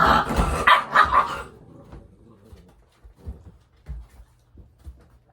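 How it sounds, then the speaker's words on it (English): Puppies bark and growl in a burst of loud, overlapping yips for the first second and a half, then fall to scattered faint scuffles and short grunts. "It's just puppies doing puppy stuff."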